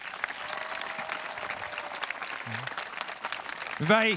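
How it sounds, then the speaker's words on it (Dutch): A festival tent audience in Lippenhuizen applauds the technicians with sustained, even clapping from a sizable crowd, a short tonal musical sound rising near the end. "Maak een applaus voor onze technici"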